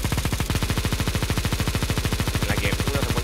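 Negev machine gun fired nonstop in Counter-Strike 2, a loud, rapid and perfectly even stream of shots that runs unbroken for over three seconds with no talk.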